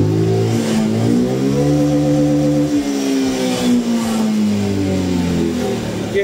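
A stock Zontes 368G motorcycle engine revs hard and close, its pitch climbing in steady sweeps toward about 8800 rpm, dipping briefly and rising again with a loud, continuous mid-range drone and no talk.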